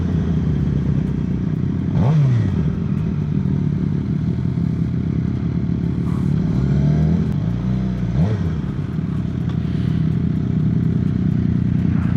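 A worn Suzuki GSXR 750 motorcycle ridden hard, its engine droning loudly and close throughout, with rising and falling revs as it accelerates and shifts, and no talk.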